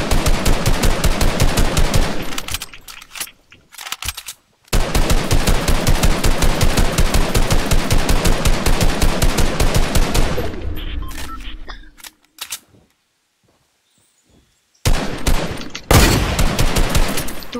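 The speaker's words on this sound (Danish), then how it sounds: "Hvor er alle dine skud, Niklas?" Rapid, loud bursts of automatic gunfire in a video game, long sustained volleys broken by short pauses and a near-silent gap before firing resumes.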